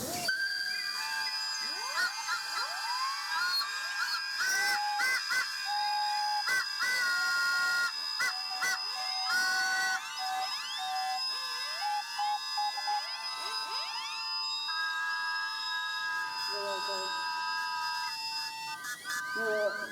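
A loud steam locomotive whistle blows in long, sustained tones, several pitches sounding together, with steam hiss and faint crowd noise around it, at a heritage railway.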